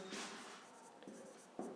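Handwriting strokes from a pen or marker on a board during a maths lesson, a steady soft scratching with a few sharper taps, faint and close, with no talking.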